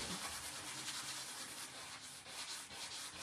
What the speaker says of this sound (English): I'm just doing a light layer of sanding